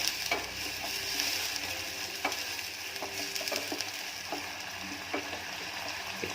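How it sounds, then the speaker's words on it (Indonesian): A spiced filling with broth and pepper sizzles steadily in a pan while a utensil stirs it, giving irregular scraping clicks over a constant fry hiss, close and moderately quiet. "Kita aduk sampai meresap bumbu, kaldu, dan ladanya."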